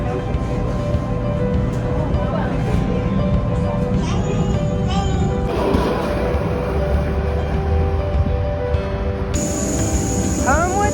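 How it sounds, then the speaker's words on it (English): Tram ride through Athens, Greece: a constant rumbling interior drone with tonal motor whine and occasional squeals, steady and close, with voices talking over it at times. "On the tram."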